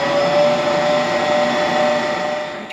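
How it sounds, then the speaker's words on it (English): A stand mixer with a large capacity and strong motor, covered with its lid, mixing sourdough for cinnamon rolls, giving a loud, steady motor whine close by that eases off slightly at the end. "I turned on my mixer for about a minute"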